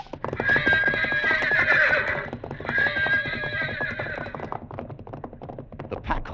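Pack horses in a radio drama whinny loudly in two long, shrill neighs, with clattering hoof clip-clop and thumps underneath, close and agitated, fading into stamping at the end.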